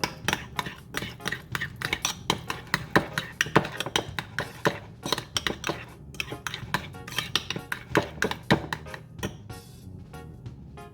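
Batter for shrimp tempura and onion rings, spiked with a dash of hot sauce, is whisked briskly in a bowl, giving a steady run of close, rapid clinks and scrapes of utensil against dish with no voices.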